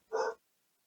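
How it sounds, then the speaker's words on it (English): A single short dog bark, fairly close and clear, standing alone against near silence indoors. "the dog is barking."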